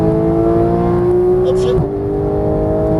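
A Porsche GT3 accelerating hard, its engine note held at high, steady revs, loud and close from inside the car, then briefly dipping near the end, with a voice faintly underneath.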